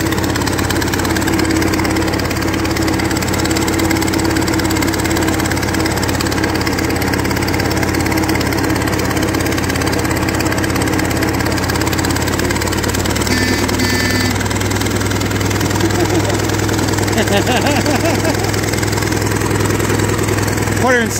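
A Fordson Major E27N tractor engine runs steadily and loudly close by, a constant mid-pitched diesel drone with mechanical rattle that shifts slightly in tone partway through.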